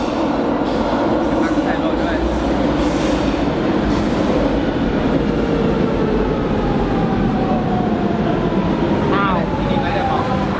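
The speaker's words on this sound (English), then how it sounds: "We just got off the metro at Cabo Ruivo" A Lisbon metro train rumbles steadily in a loud, continuous roar with faint wheel squeals and clatter. A person speaks over the noise.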